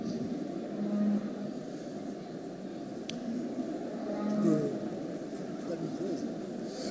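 A cow lying down at a show stand gives low, drawn-out moos amid steady talking from people nearby.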